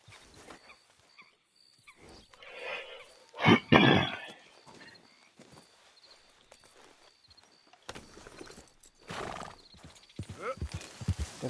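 Horse hooves clip-clop with a neigh in Red Dead Redemption 2 on PS4, with rhythmic hoofbeats under game sounds and a louder burst midway, while someone talks over it.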